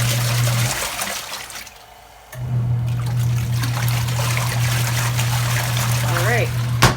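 A Kuppet twin tub portable mini washing machine agitates soapy laundry, its motor hum and sloshing, churning water continuous and close, briefly pausing before resuming.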